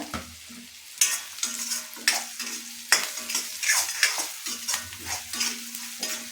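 Onions and salt frying in a pan for an avalakki breakfast, stirred in quick regular strokes, each scrape rising over a crisp, close sizzle in a steady rhythm, with no voices.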